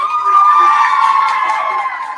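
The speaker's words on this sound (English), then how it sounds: "Have a little clap, a little cheers as we go to break." Girls cheer and shout together for a sports news segment, a loud, sustained crowd of high voices with whoops, fading a little at the end, with no clear clapping standing out.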